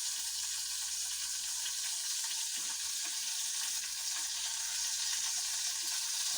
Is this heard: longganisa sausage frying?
yes